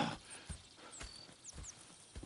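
Horse hooves clip-clopping in the Red Dead Redemption 2 video game, a few soft irregular hoof falls with faint snorting over a quiet outdoor ambience, no talk.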